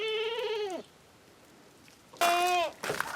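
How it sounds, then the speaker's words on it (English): Goats in a barn during an ice storm give two bleats, a long wavering one at the start and a second after a pause, followed by a short bleat, close and fairly loud. "Looks like the other goats have ventured out."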